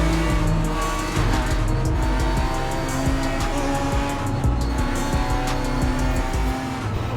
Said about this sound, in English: I love the engine noises too, like they sound so realistic